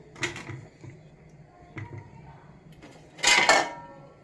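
Idli batter goes into a small, many-years-old idli steamer pot with a few light metallic clinks and scrapes of utensils against the vessel, then a louder clattering burst near the end, amid a quiet room.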